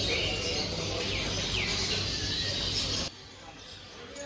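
Several birds chirp and tweet in a pet shop, a steady bright chatter of small calls over a busy hum, with a faint voice underneath; the sound drops away abruptly near the end, leaving only softer background noise.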